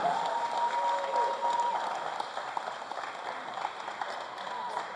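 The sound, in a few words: applause for basketball seniors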